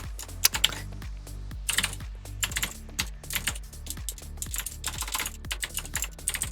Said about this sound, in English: I should be going to my quieter keyboard.